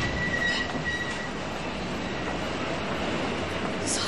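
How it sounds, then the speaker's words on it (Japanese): An old-fashioned subway train on Line 12 rumbles steadily and loudly, a dense continuous roar with faint wheel squeal, heard alone without voices. "地下鉄12号線は一つだけ旧式のまま残された古い地下鉄だ"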